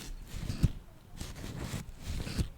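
Soft, smooth swishing strokes as a good pin glides through satin fabric, repeated about three times, gentle and close with no snagging.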